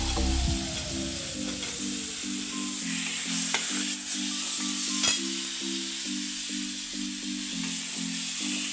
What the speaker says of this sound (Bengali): এবার আলুগুলোকে দিয়ে দেবো এর মধ্যে। আলুগুলো কষিয়ে নেব।